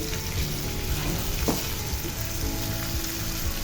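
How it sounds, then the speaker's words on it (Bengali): Two raw tomatoes and onion greens fry in hot oil in a pan, giving a dense, continuous crackling sizzle up close, with a faint stir or clink partway through and no speech. "দিয়ে এগুলো একটু তেলের সাথে ভেজে নিচ্ছি"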